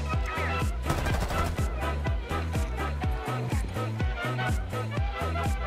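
Rapid automatic gunfire in Rainbow Six Siege, in loud, close bursts of sharp repeated shots that carry on steadily through the whole stretch.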